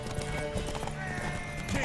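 Rapid hoofbeats clatter in a steady galloping rhythm in The Witcher, close and clear, with a horse whinnying and faint voices mixed in.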